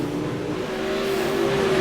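Race cars in a heat race battling for the lead on a Fairbury dirt speedway, a steady loud engine drone with a sustained pitch that rises slightly as the cars run together, no talk.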